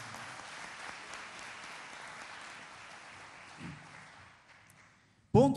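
A church congregation applauds during a Sunday morning sermon, a steady moderate wash of clapping that gradually fades toward the end, followed by a sudden loud thump.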